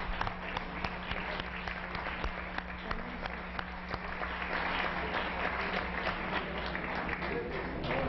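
Applause in the Mexican Senate chamber, a steady, moderately distant patter of many hands clapping that continues evenly for several seconds, with a faint hum underneath.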